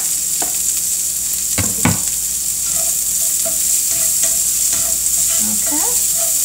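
Shallots frying in rendered bacon fat in a pan, a close, strong sizzle heard alone with a few sharp stirring knocks early on.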